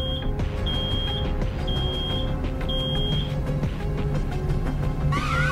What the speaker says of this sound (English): stop the alarm. Make it stop. Cut the alarm, kid.